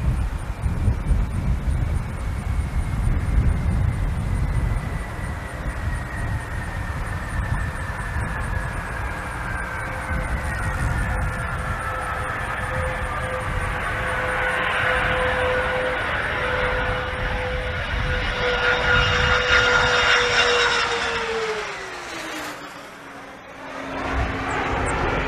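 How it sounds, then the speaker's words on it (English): Space Shuttle Atlantis lands and rolls out on runway 33 at the Kennedy Space Center, a steady roar with a slowly falling whine that sinks and cuts off near the end. "Nose gear touchdown. Atlantis rolling out on runway 33 at the Kennedy Space Center"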